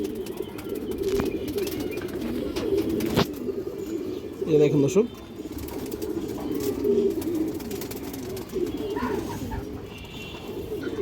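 Pigeons of a fancy breed coo in soft, rolling bursts close by, a steady murmur of calls running through the whole stretch while someone speaks over them.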